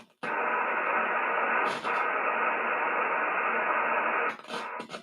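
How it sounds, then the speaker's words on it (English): A Canada Radio Museum shortwave beacon received in upper sideband on 28.192 MHz comes through as a steady, hissy radio tone held for several seconds, with short breaks and no voices. "There's a beacon. He said it's from the Canadian. What is it? Radio Museum. Yeah, Canada Radio Museum beacon."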